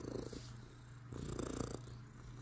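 Soft, low rumbling purr from a cat close by, rising and falling in two bursts; quiet with no talking, and no distinct chirp.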